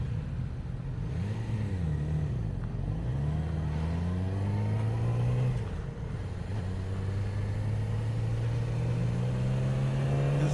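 A 2018 Yamaha R6 sport motorcycle engine is heard while riding, a steady near, loud drone whose pitch rises and falls with throttle and gear changes, continuous with no talk.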